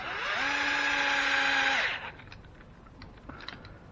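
A power drill drives a screw into an RC car part, whining steadily at close range, rising then winding down after about two seconds, followed by faint clicks and handling noise.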